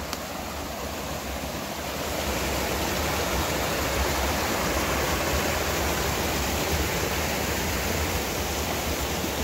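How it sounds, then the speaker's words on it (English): Falling Springs, a 45-foot waterfall in Pennsylvania, pours with a loud, continuous broadband rush of water that swells slightly after the first couple of seconds and holds steady, with no voices. "follow this spring down to the end of the waterfall"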